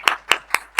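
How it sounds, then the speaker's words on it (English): Four distinct hand claps spaced about a quarter second apart, close and sharp, from a panel discussion audience at the end of a multistakeholder dialogue session. "please join me in giving a round of applause to the amazing panelists"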